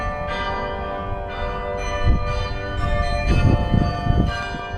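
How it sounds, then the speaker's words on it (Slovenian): A church bell tower in the seaside town of Newport plays a chiming tune. Steady ringing tones overlap and sustain at a moderate distance, with clusters of strikes building slightly louder toward the end. "Zdaj bomo slišali pa vsak čas tega zvonika, kako lepo zaigra muzika."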